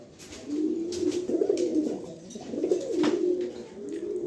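A pair of young racing pigeons cooing nearby, with two drawn-out throaty coo phrases and soft wing and shuffling sounds between them.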